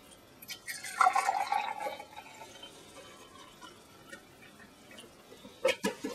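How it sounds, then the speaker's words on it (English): Apple juice pours into a tall clear glass in a short burst of trickling, filling liquid, followed by quiet and then a couple of faint clinks or drips near the end. "Pouring the apple juice."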